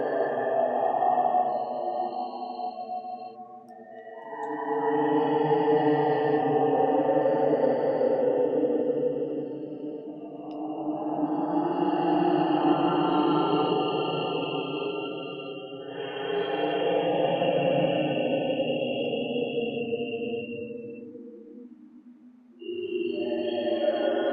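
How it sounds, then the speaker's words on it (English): Soft, breathy humming voices swell and fade like a distant choir, a continuous airy drone rising and falling in long waves. "it hums like a chorus using the wind sound"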